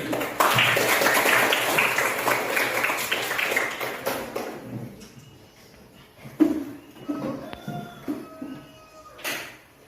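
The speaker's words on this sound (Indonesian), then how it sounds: "tepuk tangan untuk Adin" A sixth-grade elementary classroom claps for a student, a burst of applause lasting a few seconds that fades into quiet with scattered taps and small noises.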